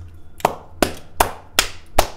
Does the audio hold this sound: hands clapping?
yes